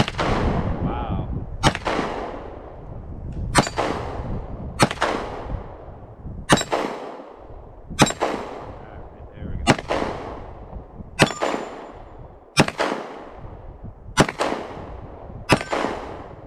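A Sig P320 Full Size 9mm pistol fires at outdoor targets, about a dozen loud, sharp shots at an uneven pace of roughly one to two seconds apart, each ringing briefly with a metallic clang.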